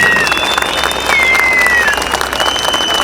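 Crowd at a DİSK minimum wage march in İzmir applauding, a loud and busy wash of clapping and crowd noise that carries on steadily throughout.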